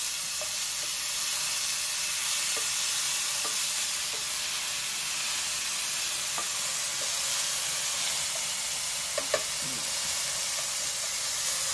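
Tomato sizzling and frying in a pan for huevos ahogados, a steady broad hiss throughout with a few faint clinks of stirring, close and continuous with no talking.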